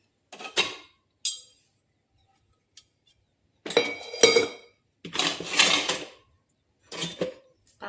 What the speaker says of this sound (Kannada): ಪಾತ್ರೆ ಬೆಳಗ್ಗೆ ತೊಳೆದಿಟ್ಟಿರೋದು ಜೋಡಿಸ್ಕೊತಾ ಇದ್ದೀನಿ.